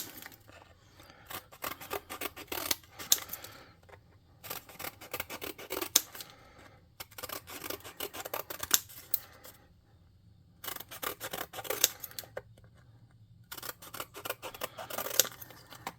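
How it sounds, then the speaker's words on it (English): Scissors snip through thin cardboard from a beverage box in repeated quick bursts of crunchy cuts, close and clear, broken by short pauses between runs. "And I'm just going to snip me some planks."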